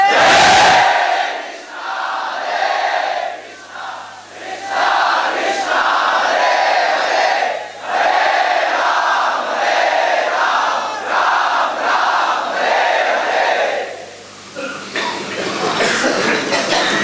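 A large devotional gathering chants the holy names together, a loud sustained chorus of many voices rising and falling in phrases, close and full, continuing for a long stretch.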